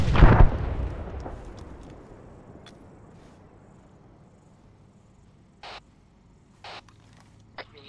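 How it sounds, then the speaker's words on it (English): Gunfire in a tactical shooter game set in a savannah, aimed at the player: one loud boom at the start that rolls off into a long decaying rumble, followed by a few faint, brief cracks farther off. "I'm getting shot at, but I don't even know where he is."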